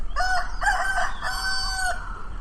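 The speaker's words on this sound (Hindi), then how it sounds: "तभी मुर्गे के बाग देने की आवाज सुनाई देती है" A rooster crows in the early morning, giving two or three drawn-out cock-a-doodle-doo calls in a row, clear and fairly close, with no other sounds around it.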